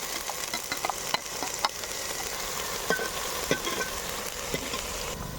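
Onion paste frying in a pan while being stirred, a continuous close sizzle with occasional scraping clicks of the spoon, steady and moderately loud, with no voices.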